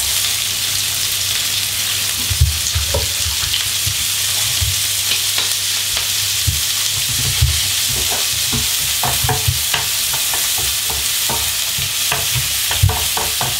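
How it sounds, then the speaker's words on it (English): Onions and garlic hit hot oil in a pan for Thai green chicken curry, giving a steady bright sizzle throughout, broken by occasional scrapes and knocks of stirring. "the onions and garlic are going to go into the pan"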